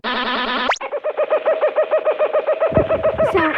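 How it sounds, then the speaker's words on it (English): Kookaburra call from the Hanna-Barbera sound effects library: a rapid, rhythmic run of loud, laughing hoots with a sharp upward swoop near the start, close and dry, no talk. "Sound ideas for Hanna-Barbera is a kookaburra"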